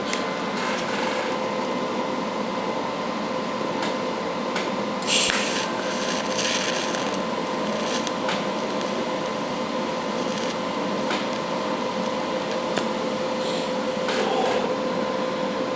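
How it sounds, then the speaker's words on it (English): Metal being welded to metal while splicing two pieces; a loud, steady crackling hiss carries on without pause, with one brief sharper burst partway through. "I'm just gonna kind of put a little weld on it"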